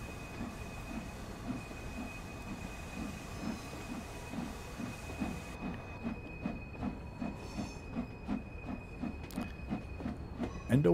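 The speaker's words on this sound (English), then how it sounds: "I've been sitting for a while, so I'll just leave the cylinder cocks open for a bit." A simulated LMS 8F steam locomotive sets off with its cylinder cocks open, its exhaust chuffing in a steady, gradually quickening rhythm over a continuous hiss, with faint clanks and rail noise building toward the end.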